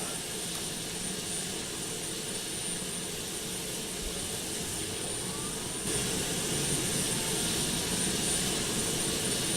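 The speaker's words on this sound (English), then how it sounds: "And I think at this point I can go ahead and fire her up. Remember how to do that. Alright, start engine number 2." Engine number 2 spinning up in a Prepar3D flight simulator, a steady broadband whine and rumble that holds continuous and grows slightly louder partway through, with no talk.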